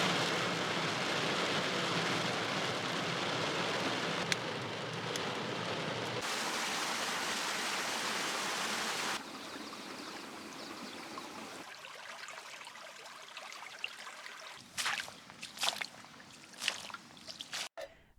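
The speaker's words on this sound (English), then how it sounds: "It's soaking out there. Absolutely dark. Look at that rain out there." Heavy rain pours down on an off-grid homestead in the dark, a dense hiss of water that holds steady and loud before thinning out, with scattered splashes and drips toward the end.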